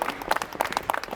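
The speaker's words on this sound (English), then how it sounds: "You stop clapping now." A small group claps briefly and unevenly, the scattered hand claps close and fairly soft, lasting just over a second.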